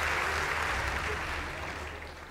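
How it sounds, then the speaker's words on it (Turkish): A live audience applauds after a magician group's stage performance, a short steady wash of clapping at moderate distance that gradually softens. "Alkışlarla alıyoruz."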